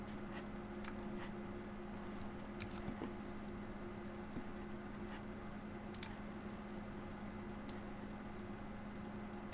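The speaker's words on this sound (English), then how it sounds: "There, clicking and dragging, clicking and drag, click and drag." Computer mouse being clicked and dragged at a desk, giving sparse, soft, close clicks at irregular intervals over a faint steady hiss.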